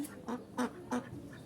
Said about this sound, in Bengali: এই যে দেখেন আমার হাঁস প্যাক প্যাক প্যাক প্যাক শুরু করছে